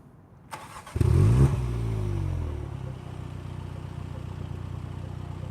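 A 2020 MINI John Cooper Works GP engine starts close by: a starter whir, then a sharp loud catch that flares up, and the engine settles into a steady, rumbling idle.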